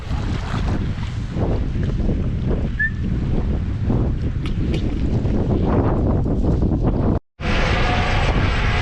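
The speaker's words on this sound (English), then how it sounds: "Wind's really picked up now" Strong gale-force wind blows hard across a rocky North Wales shore, roaring steadily and loudly against the microphone with buffeting gusts throughout, briefly cutting out near the end.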